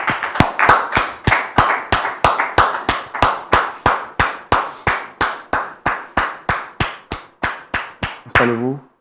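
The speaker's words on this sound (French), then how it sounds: "On les reçoit sous vos applaudissements." Studio audience on a French talk show applauding to welcome arriving guests: a steady run of sharp, evenly spaced claps, close and bright, ending with a brief vocal murmur.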